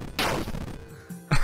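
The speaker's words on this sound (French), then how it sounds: "Oh, plein d'explosions partout." Explosion effects in a homemade 8-bit MMO game go off as a few short, sharp bursts, one near the start and another at the end, with quieter crackle between them.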